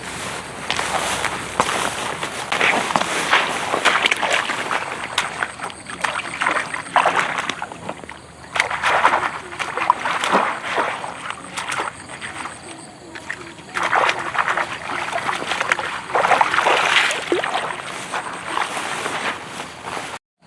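Freshly caught fish being washed by hand in water, with repeated uneven splashes and sloshing bursts close by, mixed with rustling movement and occasional voices.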